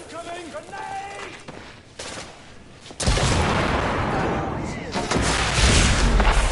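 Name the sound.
grenade explosion in video game The Order 1886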